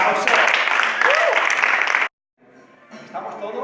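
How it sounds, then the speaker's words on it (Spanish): Dense clapping from a crowd fills the first two seconds, then cuts off abruptly, followed by quieter room sound and faint voices. "¡Un aplauso!"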